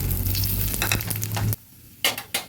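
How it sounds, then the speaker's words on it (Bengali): A dried red chilli and cumin seeds crackle in hot oil left from frying fish, busy sizzling and stirring clatter that stops abruptly, then a few scrapes follow; close, without speech. "ওই তেলের মধ্যে দিয়ে দিচ্ছি একটা শুকনো লঙ্কা আর কিছুটা জিরে ফোড়ন।"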